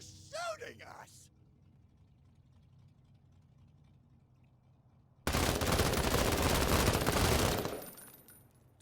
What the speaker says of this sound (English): Ah, they're shooting us!